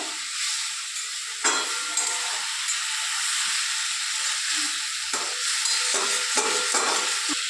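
Boiled potatoes being stirred and fried in a pan for an egg curry, with a continuous close sizzle and hiss and several sharper scraping stirs toward the end, and no voices.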